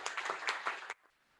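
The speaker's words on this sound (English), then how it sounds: "Can we please clap for NC?" Applause from participants in an online Zoom meeting, a short dense burst of clapping that stops abruptly after about a second, leaving near silence.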